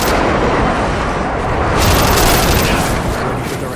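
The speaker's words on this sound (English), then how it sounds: "Friendly airstrike inbound." Airstrike explosions in Modern Warfare 2 multiplayer on Xbox 360, a continuous roar of heavy booms and rumbling blasts that stays loud throughout and swells near the middle.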